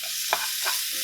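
Thin slices of lean meat cooking in a dry pan with no oil, a soft sizzle with a couple of brief stirring scrapes, close and steady.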